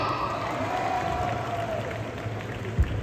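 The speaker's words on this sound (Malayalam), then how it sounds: "എല്ലാവരും നല്ലൊരു ക്ലാപ്പ് വന്നേ" A crowd at a Malayalam movie launch event claps in a sustained, even wash of applause, a steady rustle of many hands at moderate volume with one brief louder thump near the end.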